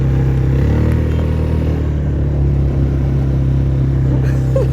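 A motorbike engine on a desert safari ride in Dubai, a steady loud low rumble that holds without a break throughout, with no speech.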